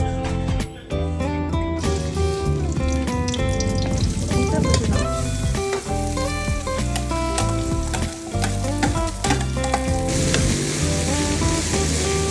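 Vegetables with garlic, onion, oil, salt, pepper and a little fish sauce frying in a wok for lumpia filling, a steady close sizzle and stir running throughout beneath background music.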